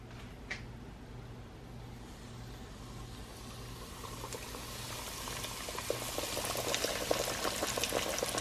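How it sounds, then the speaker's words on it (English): Battered catfish fillets go into hot oil and begin frying, the bubbling hiss starting faint and growing denser and louder toward the end, over a low steady hum, with no one speaking. "That's how the oil should be if it's hot enough. You see how it just starts to fry it."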